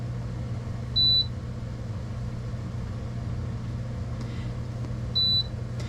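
A Comfee air fryer's digital control panel gives two short, high electronic beeps about four seconds apart while it is being set, heard over a steady low fan hum.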